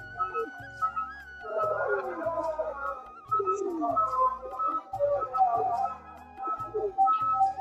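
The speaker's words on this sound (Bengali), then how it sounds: "চলো ছেড়ে দিই পায়রাটাকে।" A Giribaz pigeon coos in repeated soft, throaty phrases, close and fairly clear, with faint other bird sounds and low background murmur.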